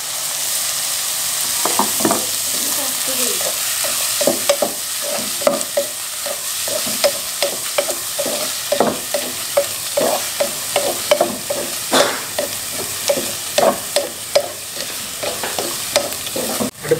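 Crushed shallots fry loudly in a pan with a bright continuous sizzle. Frequent sharp pops and crackles come at an irregular rhythm, with no speech.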